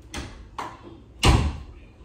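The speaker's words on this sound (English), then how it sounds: "can you close your door please" A door is pushed shut indoors: three sharp knocks and thuds in under two seconds, the last a louder, fuller slam as it closes, with no talking.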